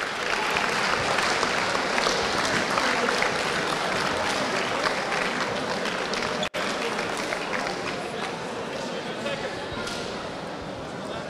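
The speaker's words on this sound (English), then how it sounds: "Let's give a round of applause for them." Loud, dense applause from a crowd at a basketball tournament honouring the runners-up, a sustained wash of many hands clapping without pause, briefly cut off for an instant midway.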